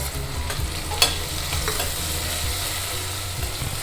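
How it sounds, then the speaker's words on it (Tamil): Onion and tomato sautéing in a pan while cooking at home, a steady sizzle and stirring scrapes running throughout with one sharp utensil knock near the start, no voices. "தக்காளியும் கொஞ்சம் வதங்கிடுது."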